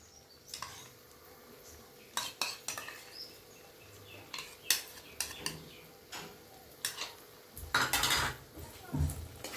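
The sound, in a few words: stirring yogurt into fish curry spices in a pan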